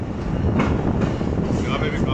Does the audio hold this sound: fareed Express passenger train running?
yes